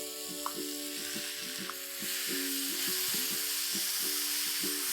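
Chopped cabbage and finely chopped tomatoes frying in a pan for a Jain tawa pulao, a continuous sizzle that grows slightly louder partway through, with a humming background tone and a few faint clinks.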